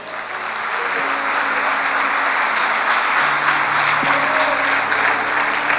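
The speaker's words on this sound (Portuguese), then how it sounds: "Dá um aplauso aí ao Senhor." A church congregation applauds during a worship service, sustained loud clapping from a large crowd that fills the whole stretch, with a faint sustained keyboard tone underneath.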